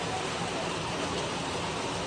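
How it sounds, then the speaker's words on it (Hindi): Heavy rain falls steadily in hilly Himachal, a dense, even hiss of downpour at constant loudness throughout, with no voices or other distinct sounds. "जोरदार बारिश हो गई है"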